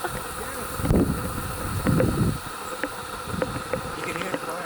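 Swarm of bats streaming out of Bat Cave at night, a dense fluttering, chittering wash over buzzing insects and outdoor ambience, with a few louder low rustling bursts and faint voices in the background.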